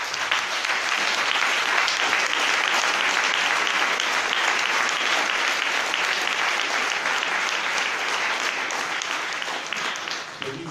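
Dense, sustained applause fills a hall as an audience claps after a speech at a 2018 socialist conference, a loud continuous roar of many hands lasting about ten seconds and tapering slightly at the end.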